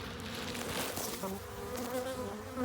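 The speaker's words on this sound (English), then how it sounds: "I got bees everywhere." Honeybees swarm around a backyard hive, filling the air with a dense, continuous buzz that stays close and steady throughout, with no talking.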